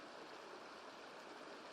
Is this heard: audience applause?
no